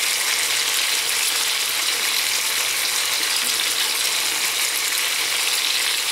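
Chopped onion sizzles and fries in a pan for a healthy chicken in sauce, a steady loud crackling hiss with fine popping texture, close up and uninterrupted, with no talking.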